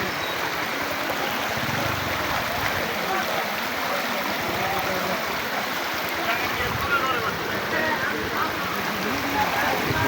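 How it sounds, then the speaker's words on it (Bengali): Floodwater flowing in a stream onto a road, a steady loud rushing and gurgling wash that continues without a break. "এইভাবে পানি ঢুকতেছে।"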